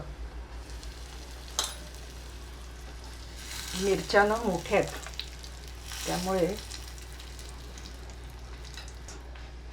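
Byadgi chillies, curry leaves and asafoetida sizzle in hot oil for a tempering, a soft continuous fry heard beneath someone speaking over it.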